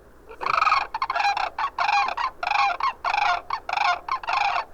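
A flock of large birds flying high overhead gives loud, rhythmic honking calls in repeated bursts, with several voices overlapping throughout.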